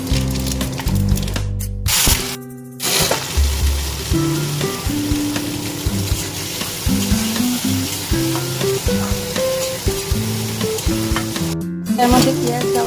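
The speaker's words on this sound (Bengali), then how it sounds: "গরম হয়ে গেছে, এটার মধ্যে গোটা জিরে, লং, এলাচ আর দারচিনিটাকে একদম ছোটো ছোটো করে কেটে দিলাম।" Whole cumin, cloves, cardamom and chopped cinnamon sizzle in hot mustard oil, a steady close crackle under strong tonal music throughout, with a few brief drop-outs.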